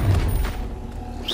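A Protego shield spell goes up in Hogwarts Legacy with a deep, heavy boom and thud at the start, easing into a rumbling magical hum, then a brief bright shimmer near the end; loud and close, no talking.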